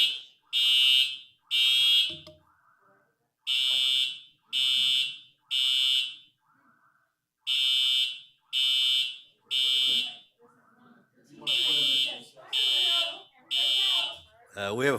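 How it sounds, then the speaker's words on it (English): A fire alarm sounds during a charter review committee meeting, its loud, repeating blasts evenly spaced with short gaps, and brief bits of talk fall between the bursts. "We have a fire alarm going off,"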